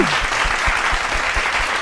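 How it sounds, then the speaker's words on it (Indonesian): An audience applauds to welcome a guest named Om Bambang at a casual talk-show episode, steady dense clapping throughout at moderate loudness, with no voices over it. "kasih tepuk tangannya dulu dong ya"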